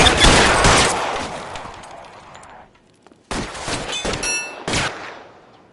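Gunfire from a shootout in LA Noire booms in heavy, close bursts: a loud volley fades into a lingering echo, then after a short pause two more sharp rounds of rapid shots ring out.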